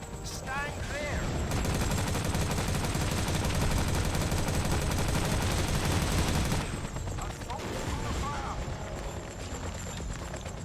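Helicopter gunfire in Battlefield 2: Modern Combat pours out as a loud, sustained rattle of rapid shots that drops off partway through, with game voices mixed into the din.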